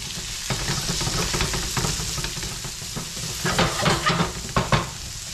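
Garlic and onion sautéing in a pan for yakisoba give a loud, steady sizzle, with bursts of stirring and scraping against the pan toward the end.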